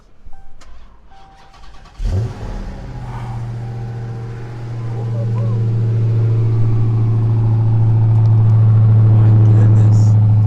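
A crashed Dodge Charger SRT Hellcat Redeye King Daytona supercharged V8 cranks and fires with a loud burst, then settles into a deep, rumbling idle that swells louder and steadies, heard close up from inside the car, with a voice talking early on.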